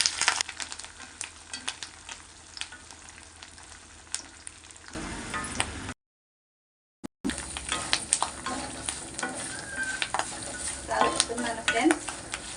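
Lemon rice (nimmakaya pulihora) tempering with curry leaves and green chillies stirred in a pan, a continuous close sizzle with frequent spoon scrapes and clinks, broken by a second of silence midway, no voices.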